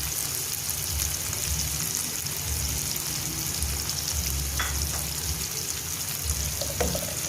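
Finely chopped tomatoes sizzle in hot oil over a low flame for an aloo bhujia potato curry, giving a steady, dense frying hiss with a few light utensil taps.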